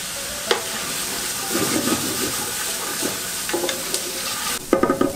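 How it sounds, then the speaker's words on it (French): Bell peppers and garlic sauté in a pan with a continuous close hiss and crackle, broken by regular spatula scrapes and taps as they are stirred, with a clatter of utensil knocks at the end. "On va les faire suer brièvement en remuant."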